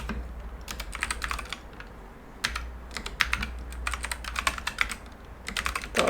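Bursts of rapid keystrokes on a computer keyboard, close and clear, in several quick runs separated by short pauses, with a low steady hum beneath and no voices.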